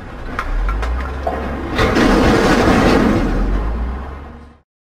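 A dump truck engine runs with a heavy, low rumble, swelling louder midway as it revs, then cutting off abruptly near the end.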